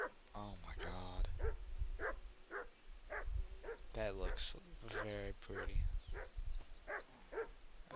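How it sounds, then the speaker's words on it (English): A dog in the video game Kingdom Come: Deliverance II barks in a steady, repeated rhythm, loud and close, while a person talks over part of it. "I wish the dog would be quiet for a sec."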